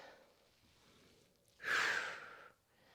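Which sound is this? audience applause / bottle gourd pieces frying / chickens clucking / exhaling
exhaling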